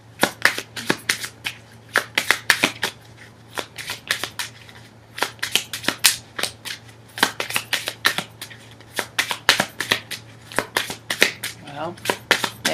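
Lenormand cards shuffled for a tarot reading, a long run of quick crisp riffles and flutters repeating close by against a low steady hum, with a voice heard in places.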